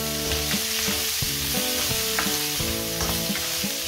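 Garlic and onion sautéing in hot oil for pinakbet, with a loud continuous sizzle broken by regular clattering stirs of a spatula against the pan, close up and without speech.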